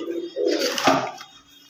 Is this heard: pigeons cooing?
yes